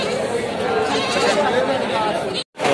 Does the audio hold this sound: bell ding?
no